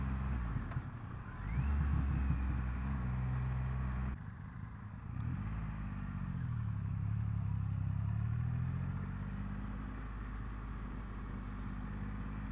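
A 2021 Triumph Rocket 3 motorcycle pulls through a turn in first gear, its engine a steady, close, low rumble running continuously with a brief drop in intensity partway through.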